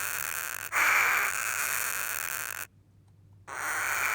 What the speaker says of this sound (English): This is a Harris hawk.